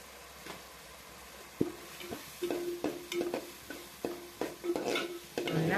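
Goat blood fry with pepper powder being sautéed in oil in a pan, a soft steady sizzle broken by repeated sharp scraping stirs of a spatula, close and fairly quiet, with no talking.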